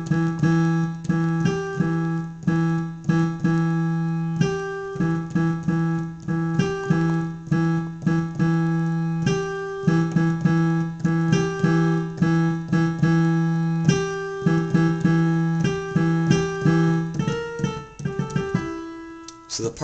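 Piano plays the opening of a rock song as a steady, insistent riff alternating between two keys, with repeated punchy chords sounding loud and close and no talking.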